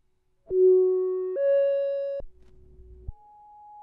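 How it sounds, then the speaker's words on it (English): A bit-crushed sine wave from an Expert Sleepers Disting Mk4 Eurorack module holds a few stepped pitches in turn, each a clean steady tone, with a grainy, buzzy low-bit-rate stretch before a final higher note. "The graininess you're hearing is just the basic output from the Disting. It's just making some noise because the bit rate is so low."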